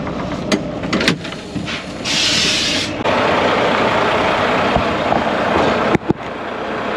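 A grain truck's engine runs at a steady idle with a broad, rough hum, broken by a hiss of air and clicking and clunking from the cab controls, with a sharp knock near the end.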